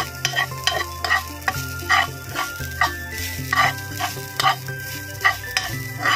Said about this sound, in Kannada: ಚೆನ್ನಾಗಿ ಫ್ರೈ ಮಾಡಿಕೊಂಡು